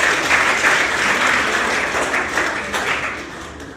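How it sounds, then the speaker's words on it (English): An audience at a party presidential primary election event applauds steadily and loudly, a dense wash of clapping that holds for several seconds and fades slightly toward the end. "A round of applause for yourselves."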